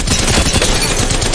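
Enemy team gunfire in a battle royale shooter, a loud continuous barrage of overlapping shots close by with no pause, filling the whole moment.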